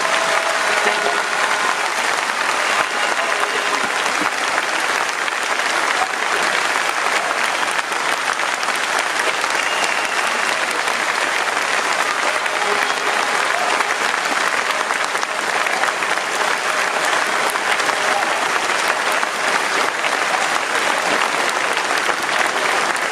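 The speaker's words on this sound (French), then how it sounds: "je vous demande de les applaudir aussi fort" A large crowd at a PDCI-RDA political rally applauds loudly, with dense, sustained clapping that continues unbroken for over twenty seconds.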